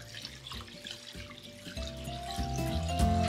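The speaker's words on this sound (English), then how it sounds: "So let's pour some water over and get her going." Water pours from a tap into a prep tub over a store-bought corned beef, a close running splash that swells louder and fuller as the tub fills, with no talk.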